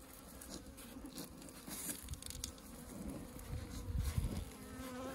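Honey bees hum steadily and close at a hive during a late-winter hive check, a dense, continuous buzz with a few louder passes near the end.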